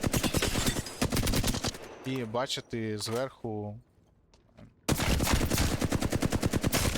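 Dense, rapid gunfire in Apex Legends rattles loudly in long bursts, breaking off for a moment while a voice speaks over a brief musical tone before the shooting resumes.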